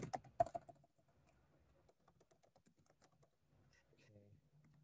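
Someone types on a computer keyboard, quiet quick clicks and taps in a loose stream, faint and close, after a brief burst of louder noise at the start.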